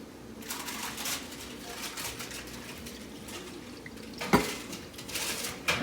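Lentils are washed in water, stirred by hand or spoon in a bowl with a steady wet rattling swish and a few sharper clinks, close and alone.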